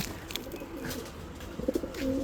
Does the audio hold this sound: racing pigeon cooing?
yes